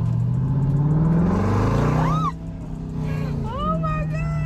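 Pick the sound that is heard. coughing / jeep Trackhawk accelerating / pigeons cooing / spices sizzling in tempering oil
jeep Trackhawk accelerating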